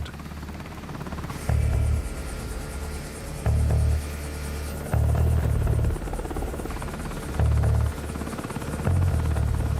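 Helicopter engines drone steadily with the rhythmic thump of rotor blades, a deep rumble that swells in periodic bursts, close and continuous.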